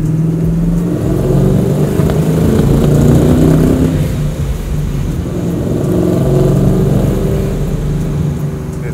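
A supercharged 1969 Camaro V8 with a manual gearbox revs loudly and steadily up close, its deep rumble swelling and easing over nine seconds with a slightly rough, stumbly edge.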